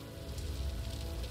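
Steady rain in the video game Heavy Rain, a continuous broadband hiss of falling drops on surfaces with a low rumble underneath, even and unbroken throughout with no talking.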